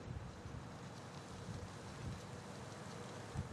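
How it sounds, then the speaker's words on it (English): Strong wind roars steadily across an open disc golf course during a women's tournament round, a constant broad rush with slight gusting swells and no voices. "You can just hear that wind."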